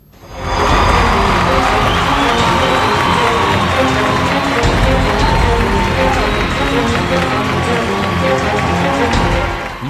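A large crowd at a political election rally in India cheers and shouts in a loud, steady roar that holds for the full stretch, with voices and whistles layered over a dense wash of noise.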